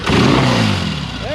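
An old 1966 Triumph preunit motorcycle engine, rusty and recently revived, revs loudly and close as throttle is blipped, a rough burst that rises then settles into a fading drone with a brief trailing sweep.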